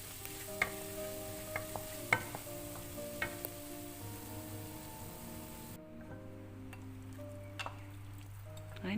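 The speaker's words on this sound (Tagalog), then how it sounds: "2 teaspoons of minced garlic, saute lang natin." Minced garlic sautéing in a pan gives a steady low sizzle with occasional stirring clicks and utensil taps, close and moderately loud, with no one speaking.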